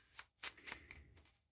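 Tarot cards are shuffled in a few quick, soft riffling bursts, faint and close by, with brief pauses between them.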